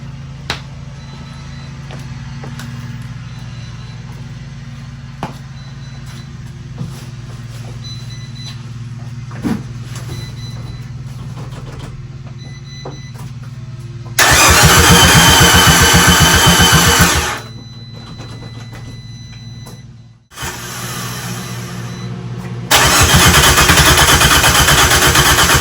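A small Fiat car fitted with a big turbo and suffering a suspected fuel problem tries to start, with a steady low hum, then loud bursts of harsh cranking and churning, a brief drop to quiet, and more cranking.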